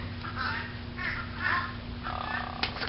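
Bird calls in short bursts at an animal park, crow-like caws rising and falling against steady background noise and a low hum, with a sharp click near the end.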